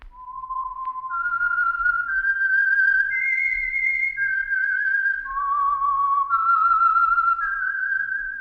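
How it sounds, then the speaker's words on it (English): A single melodic whistled theme for the radio mystery program The Whistler, clear and sustained, stepping up and down through a rising and falling tune for several seconds with nothing else heard. "That whistle is your signal for the Signal Oil Program, The Whistler."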